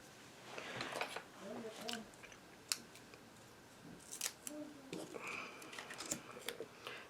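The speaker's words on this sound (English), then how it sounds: "I'm going to cut it in half lengthwise. I did clean up my scissors and de-gum them." Sharp snips of scissors cutting a strip of foam tape lengthwise in half, a series of close, crisp clicks and slices scattered through the clip, with a voice talking at moments between cuts.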